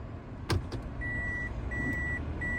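A used car idles, then its transmission jerks into reverse with a single heavy clunk, then a steady electronic beep repeats at regular intervals.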